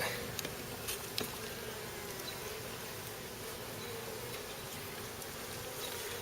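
Honeybees swarm around a comb frame from a new hive, a dense, continuous buzzing close by with a few sharper individual passes early on and no talk.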